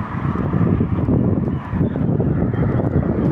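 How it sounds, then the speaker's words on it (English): Loud, rumbling wind buffets the microphone nonstop outdoors on a woodland walk between Lewsey Farm and Hockwell Ring, a heavy low roar that dips briefly and then surges back. "Very windy out here"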